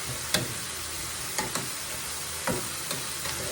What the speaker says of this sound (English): Let's get these peppers and onions cooking a little bit in here.